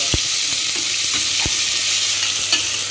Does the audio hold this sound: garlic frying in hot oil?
yes